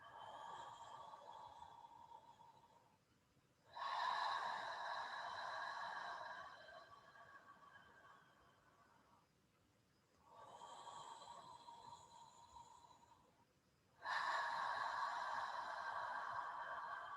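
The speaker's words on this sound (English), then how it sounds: "So when you're breathing out, it's almost like you're steaming a window." Slow, deliberate breathing in a guided breathing class, inhaling and exhaling through the mouth in long cycles: two airy inhales alternate with two louder, fuller exhales, each lasting several seconds, close and unaccompanied by speech.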